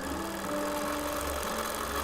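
A sewing machine quilting with soft gray Isocord 40 weight 100% poly thread runs in a steady, continuous mechanical whir with fast rhythmic needle chatter, close and even throughout.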